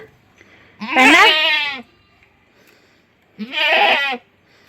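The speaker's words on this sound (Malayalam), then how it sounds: "ഇപ്പോഴാട്ടോ ഈ ആട് കരയണേ" Goat bleating twice, two loud wavering cries close by separated by a short quiet gap.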